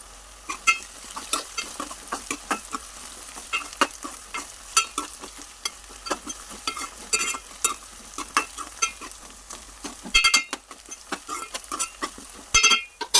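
Vegetable pieces going into onions frying in oil, giving a busy crackling sizzle with frequent clattering stirs and scrapes in the pan, close and continuous, no speech.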